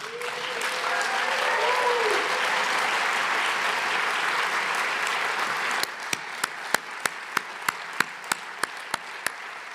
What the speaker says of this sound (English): I want you to give them an even bigger round of applause than all the previous ones